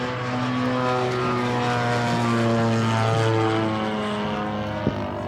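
A Top Flite giant scale P-47 Razorback, a radio-controlled model of the World War II fighter, flies past with a loud, steady propeller-engine drone that stays strong throughout and dips slightly near the end, with no voices.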